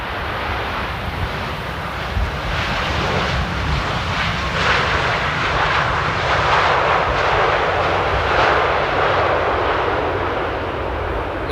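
An airliner lands at Amsterdam airport in windy weather and opens up engine reverse thrust, a loud, sustained roaring rush of jet noise with broad wind-buffeted texture, swelling slightly midway.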